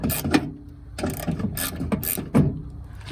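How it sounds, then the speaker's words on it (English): A ratchet fitted with a 10mm socket loosens bolts on a Honda Element during window regulator motor work, giving repeated bursts of close mechanical clicking with brief pauses between strokes. "Use a 10mm socket to get those out."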